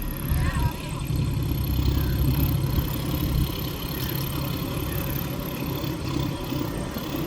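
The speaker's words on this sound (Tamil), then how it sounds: "இவ்வளோ பெரிய ஆழத்துக்குள்ளேயும் டிராக்டர் ஓடி போகுது" A tractor engine runs steadily through deep floodwater, a low continuous rumble and drone throughout, with people talking over it.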